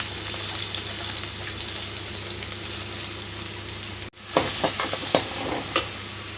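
Chopped onion hitting hot oil in a kadai for Tamil egg gravy: a steady background hum, then a sudden sizzle with bursts of stirring and clatter, close and fairly loud.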